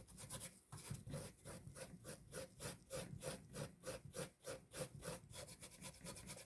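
Fast rhythmic back-and-forth scrubbing of an abrasive pad on a Briggs and Stratton carburetor mating surface, close but quiet, with steady repeated strokes and no talk.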